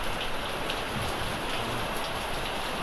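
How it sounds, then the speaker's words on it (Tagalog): Very heavy rain pours down outside a house on a dark afternoon, a dense, even hiss of falling water that stays constant from start to finish, with no voices. "At inabot tayo ng napakalakas na ulan."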